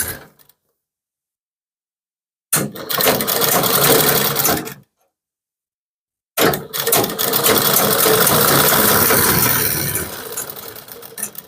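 A sewing machine stitches a kurti in two loud, steady bursts of about two and five seconds, separated by silence.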